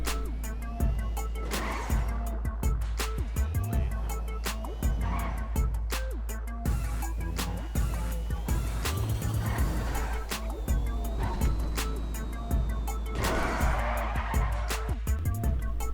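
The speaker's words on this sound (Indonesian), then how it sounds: "di sini kita bawa mobilnya aja ke garasi untuk simpan mobil ini guys, biar mobilnya nggak hilang" An electric sports car in a video game rolls into a garage, with a continuous engine hum and occasional tire squeals and skids over a busy, cluttered game soundscape.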